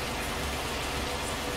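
Steady, loud rain in a farming simulation game, a dense unbroken hiss with no pauses and no voices.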